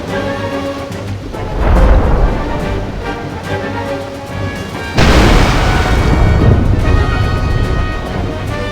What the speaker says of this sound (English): Enemy cannons!